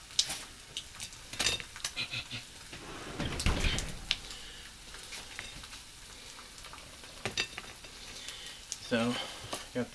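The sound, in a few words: stirring gravy on biscuits in a pan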